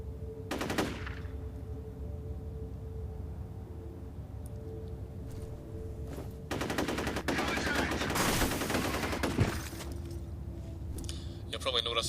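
Bursts of automatic gunfire in the F.E.A.R. video game, with rapid repeated shots in clusters, loud and close amid game ambience, and a voice speaking over stretches of it.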